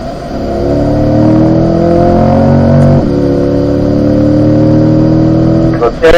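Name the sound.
C8 Corvette accelerating on track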